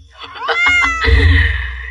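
A cat meows repeatedly in short, rising cries, close and fairly loud, set within a Hindi animated horror story about a witch's cat.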